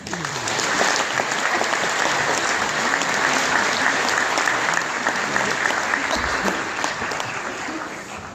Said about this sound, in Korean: 우선 박수로 환영 좀 해주시죠.